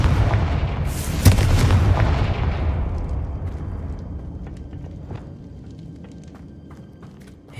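A Confringo blasting curse goes off in a Harry Potter video game: one heavy, sharp boom rings out, then a long rumbling roar slowly fades away.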